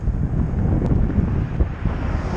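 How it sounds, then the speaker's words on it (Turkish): Strong headwind buffets a cyclist's microphone on a long-distance road ride between Uşak and Isparta, a loud, continuous low rumble of gusting air with no speech over it. "Rüzgar karşı esiyor."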